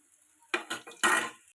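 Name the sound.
stirring onion vada frying in a pan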